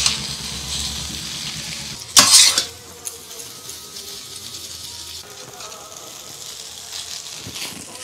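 Chow mein noodles dropped into a pan of lightly fried vegetables, with a sudden loud hiss that fades into a steady, close sizzle and some stirring clatter.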